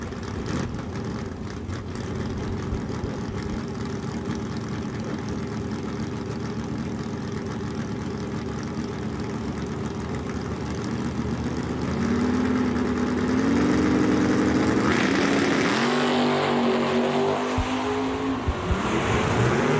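A 1971 Dodge Demon and a Camaro at a drag strip idle with a steady, rough engine rumble. Then comes a loud revving launch with climbing engine tones that recede down the track.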